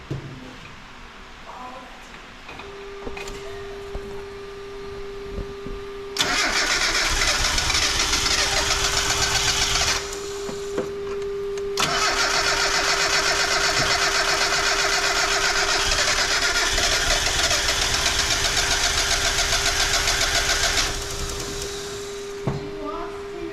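A K-swapped Honda EG hatchback on its first test fire: the starter cranks, the engine catches and runs rough and loud for a few seconds, stops, then restarts and idles unevenly for about ten seconds before cutting out, with people talking before and between.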